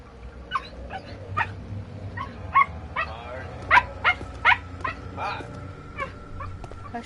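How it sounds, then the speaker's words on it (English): A real dog barks during a home game broadcast of Amnesia: The Dark Descent, letting out a string of short, sharp barks and yips at uneven intervals over a low, steady background hum. "I know they can hear you barking"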